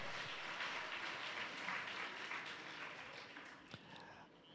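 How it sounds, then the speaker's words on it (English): An awards-ceremony audience claps steadily and densely, a continuous wash of many hands that holds at an even level and tapers slightly toward the end. "Clap for yourselves once again."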